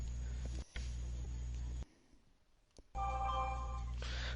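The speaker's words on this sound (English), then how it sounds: "There's the phone." A telephone rings in short electronic bursts, the tone broken by a brief gap of near silence before ringing resumes, with a steady low hum beneath.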